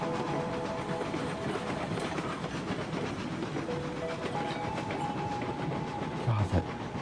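A train rumbles steadily along the rails in the video game Railroads Online, with a low continuous roar and faint rhythmic clatter, plus a short thump near the end.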